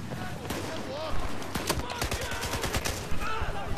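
Battlefield 4 gunfire crackles in rapid, uneven bursts of sharp shots, some near and some distant, layered over someone talking.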